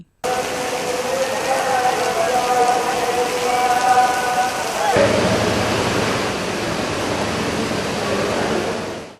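Heavy rain from a severe depression pours in a dense, continuous roar throughout in Tirupati, flooding roads around the temple; a voice is faintly heard over it during the first half.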